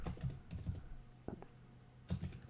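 Quiet clicks of a computer keyboard as someone types a search term during a software demo, a few short bursts of keystrokes with brief gaps, faint and close.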